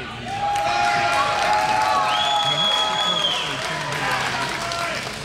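A wrestling crowd claps and cheers at an independent show, a dense, sustained wash of clapping with shouts and whistle-like tones rising above it, while voices carry through the noise.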